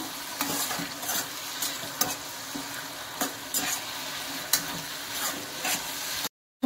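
A spoon stirring chikkudu kayi (broad bean) curry in a pan, with repeated scraping strokes against the pan over a steady frying sizzle, close and alone, ending in a brief cut.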